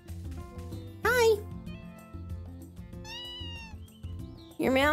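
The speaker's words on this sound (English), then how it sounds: "You're meowing at the tree." Cat meows from the farm-life game Story of Seasons: A Wonderful Life, two bright rising-falling cries near the start and end, plus a softer chirp midway, over steady game music with a voice talking.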